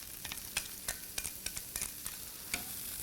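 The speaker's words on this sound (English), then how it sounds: "And hear that sizzle" Bean sprouts sizzle and fry in a hot saute pan over very high heat, a steady crackling hiss punctuated by frequent sharp pops and stirring clicks, fairly quiet and close, with no voices.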